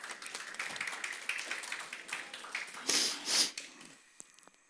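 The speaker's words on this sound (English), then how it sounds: "An applause for Thomas" A small audience at a small-cap company investor event claps briefly for a speaker, sparse scattered hand claps swelling in a couple of louder bursts and then fading away to quiet.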